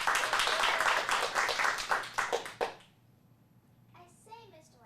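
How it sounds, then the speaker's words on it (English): Applause for a child's Alice in Wonderland monologue at an acting class, a small group clapping loosely for under three seconds in uneven bursts, followed by a pause and then a voice speaking. "Let's give her a big round of applause."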